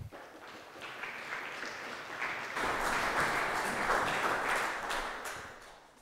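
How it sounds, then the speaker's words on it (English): A conference audience at SwiftConf '15 applauds to welcome a speaker, the clapping swelling midway into a fuller, louder burst before tapering off toward the end. "let's give him a round of applause"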